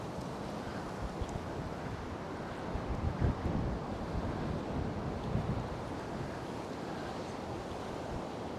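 Steady wind buffets the microphone at the seafront of Can Pastilla, Mallorca, with a dull continuous rush and surf-like roar and a few slightly louder gusts, with no voices.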